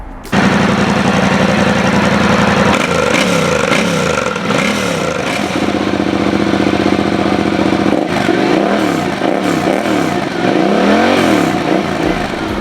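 A Yamaha Ténéré 700 motorcycle with a loud aftermarket Remus exhaust idles with a rapid, popping burble, then revs up and down several times, close and harsh.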